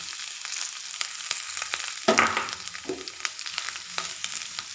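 Grated coconut roasting with browned urad dal in a pan over a medium flame for Kerala sadya koottu curry gives a steady close sizzle and crackle, with a louder burst of scraping and stirring near the middle.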